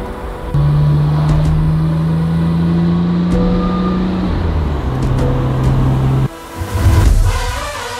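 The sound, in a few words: Midnight Purple II Nissan R34 GTR car arriving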